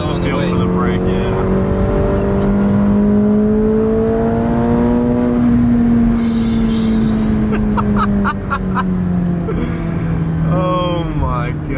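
A McLaren drives on a track, its engine note rising and falling as a steady, loud drone with shifting pitch, while people talk inside the car throughout.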